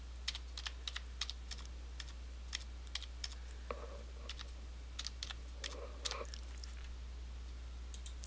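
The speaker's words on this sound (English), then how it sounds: "simply type in your name and the barcode." Keystrokes on a computer keyboard as a name and barcode are entered, irregular quick clicks in short bursts over a steady low hum, close and fairly quiet, with no talking.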